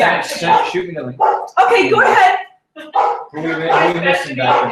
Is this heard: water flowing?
no